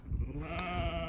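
A lamb on a market garden lets out a single wavering bleat, close and clear, lasting about a second with no voices over it.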